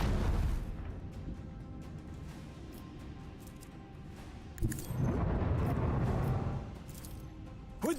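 Macro cannons of a warship in Warhammer 40,000: Rogue Trader open fire in heavy booming blasts, with a deep rumble at the start and a loud burst of explosions midway that rolls on for a couple of seconds.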